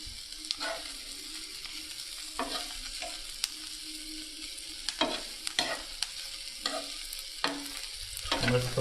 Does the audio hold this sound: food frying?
yes